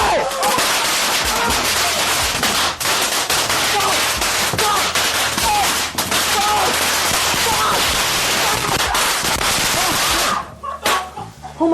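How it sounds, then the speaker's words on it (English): A Pikachu firework going off indoors in a house, a loud, dense barrage of rapid crackling bangs and pops running continuously before cutting off abruptly near the end. "he posted another video lighting a Pikachu firework inside his house"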